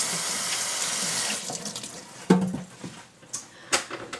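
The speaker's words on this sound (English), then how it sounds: "Okay, so rinse my hands." Tap water runs steadily while hands are rinsed at a kitchen sink during vegetable ratatouille prep. The flow is loud and continuous at first, then eases off into quieter, intermittent splashing.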